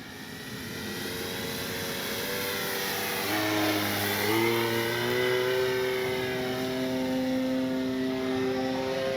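A CNHL Bison XT RC bush plane flies overhead on its maiden flight, its electric motor whine rising in pitch and swelling louder as it passes near, then holding a steady drone.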